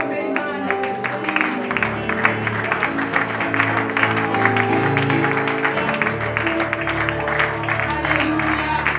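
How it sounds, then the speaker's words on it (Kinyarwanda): A church congregation claps together in sustained, loud applause, dense rapid claps filling the space throughout. "Reka dukomere Imana amashyi."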